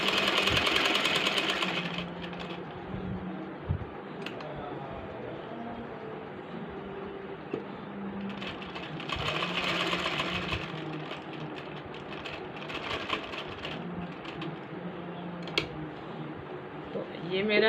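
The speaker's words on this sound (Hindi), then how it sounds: "तो मैं इसके ऊपर सिलाई लगा रही हूँ।" A sewing machine runs steadily, stitching piping onto the side slit of a kameez, with its hum continuing throughout and someone talking over it.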